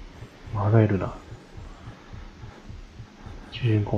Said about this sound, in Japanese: 心臓の音が聞こえるよ。